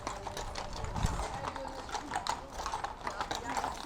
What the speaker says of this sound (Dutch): In de processie begeleiden de paarden en hun ruiters Christus Koning